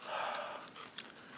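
Raw celery chewed by a fire outdoors, a few faint crisp crunches and bites at close range over quiet background.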